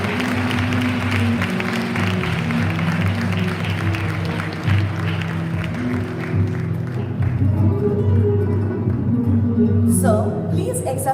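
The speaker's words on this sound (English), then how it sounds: "Let's give them a huge round of applause" A school audience at an annual prize day gives the chief guest a long, loud round of applause. The clapping stays full and steady with a low hum beneath it, then thins out near the end.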